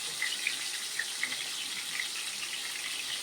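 Chicken legs lowered into hot oil give a steady close sizzle with a bright hissing wash and a few small crackling pops.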